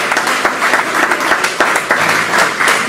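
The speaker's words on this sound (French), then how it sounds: "Si nous pouvons acclamer le Seigneur pour sa vie, s'il vous plaît." A congregation applauds the Lord during a church service, a loud, sustained wash of many hands clapping close and steady, with no voices standing out.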